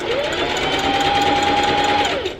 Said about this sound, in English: You're gonna reverse stitch to lock that stitch in because you don't want it to come apart.